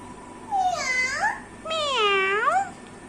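A voice imitates a cat, giving two drawn-out, wavering meows one after another, close and clear over a quiet room.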